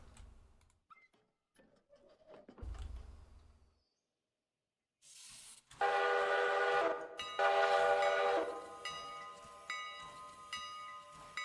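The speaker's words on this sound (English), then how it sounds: "I will say the bell sound is very nice" Locomotive bell in the Railroader simulation game rings in a steady, metallic clang, loud and ringing, after a few quieter rumbles and a pause.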